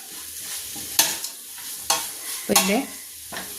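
Spices such as fennel seeds being stirred in a frying pan for beef curry, with a spoon scraping in several distinct strokes over a soft, steady sizzle.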